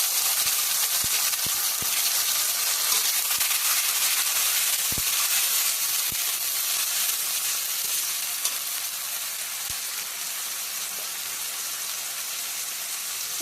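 Onions frying in a pan with ginger-garlic paste added for a chicken curry, giving a steady, loud broadband sizzle throughout with a few brief clicks of stirring.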